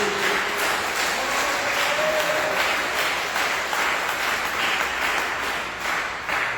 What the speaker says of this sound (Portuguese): dê uma salva de palmas bem alegre para Jesus